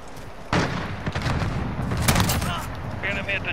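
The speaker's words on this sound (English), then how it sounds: "Enemy precision airstrike inbound." Precision airstrike explosions from a multiplayer first-person shooter, a loud burst of booming blasts and crackling gunfire rolling on for several seconds, with a voice speaking over the chaos.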